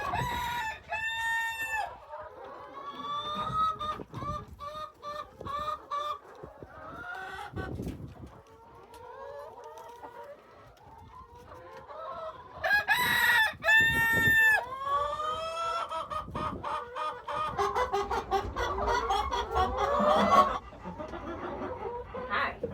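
Backyard chickens in an Indiana spring, including an Americana or Easter Egger hen, cluck and squawk steadily with a rooster crowing, busy and fairly close with overlapping calls throughout.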